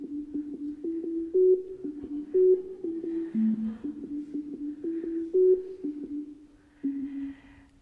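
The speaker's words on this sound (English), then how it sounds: "now here's this very same tune, except that now all the tones are in the same octave" A simple melody of clean electronic tones, all kept within one octave, plays as an evenly paced sequence of sustained notes, alone and clear.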